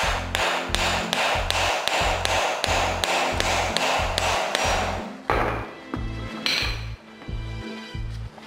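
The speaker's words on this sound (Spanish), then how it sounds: "procedemos a darle unos pequeños martillazos aquí" Small hammer tapping on a suspension arm bushing of a Golf 4: a steady run of about a dozen close metallic taps in even rhythm, slowing to a few sharper separated knocks toward the end.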